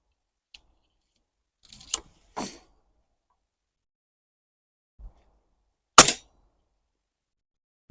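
Several sharp, isolated shots are fired at a one-inch target panel, each a short crack separated by long silent gaps, with a faint mechanical click or two in between.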